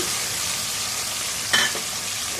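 Two eggs fry in a pan beside onion and peas, giving a steady, even sizzle with one brief clink near the middle.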